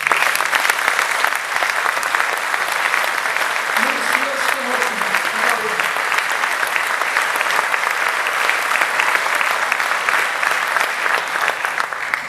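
Rally crowd in Lisbon applauds volunteers at a 2016 presidential campaign event, steady dense clapping sustained for the whole stretch, loud and close, with a few voices mixed in.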